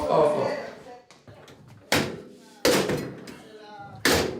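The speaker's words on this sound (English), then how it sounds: "I had to close the door." Several sharp door slams and bangs ring out at irregular intervals, each a loud close impact followed by a brief decay, with people talking in between.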